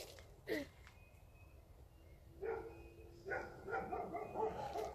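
Several dogs bark and yelp at a distance, scattered short barks growing busier toward the end over a low background hum.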